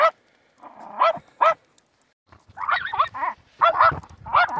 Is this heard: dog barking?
yes